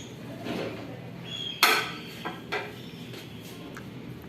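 Spiced beef pieces for tikka are mixed by hand in a metal bowl with chili, cumin and garam masala, making soft squelching and a few sharp clinks against the bowl, close and moderate with no talking.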